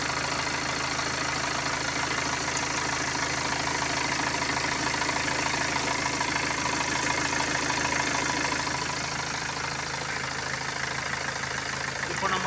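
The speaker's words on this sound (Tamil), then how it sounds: "இப்போ நம்ம இந்த வண்டி வந்து ஸ்டார்ட் பண்ணிட்டோம். வண்டி ஓடிட்டு இருக்கு." A BMW 320d diesel engine idles after a coolant top-up, running as a steady, even mechanical hum with a faint rhythmic clatter, close by and continuous throughout.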